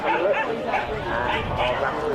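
A Jack Russell Terrier barks and yips repeatedly at an indoor agility competition, the short barks close and lively over constant crowd noise and arena commentary.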